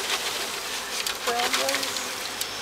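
Bees being shaken out of a package box make a rushing, pattering cascade with a rising buzz, heard briefly at close range alongside faint voices.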